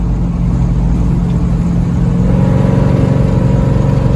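A Dodge Ramcharger with a 360 V8 drives steadily down the road, its engine a continuous low rumble with drivetrain whir that firms up and thickens partway through, loud and close throughout.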